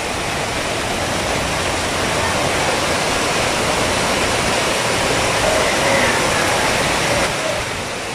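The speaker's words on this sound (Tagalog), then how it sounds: "Ayan po yung ilog. Umapaw na." An overflowing, flooded river rushes past in a loud, dense, unbroken roar of water that stays constant for the whole stretch, with no voices.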